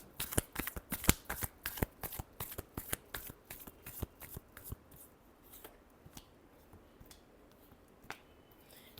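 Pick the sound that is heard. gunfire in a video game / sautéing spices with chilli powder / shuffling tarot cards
shuffling tarot cards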